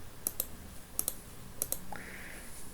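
Computer mouse clicking while building custom blocks in Scratch: three pairs of sharp, close double clicks spaced evenly about 0.6 seconds apart, followed by a faint higher hum.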